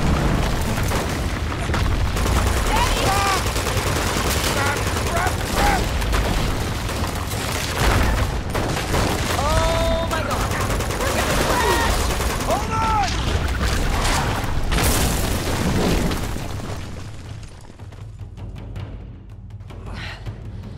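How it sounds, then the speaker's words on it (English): Gunfire and booming explosions in a chaotic firefight in the video game Uncharted 2, dense and loud throughout, with voices shouting over a rumbling background that fades near the end. "Shoot them!"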